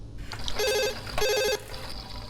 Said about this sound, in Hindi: देखो जरा किसका फोन है।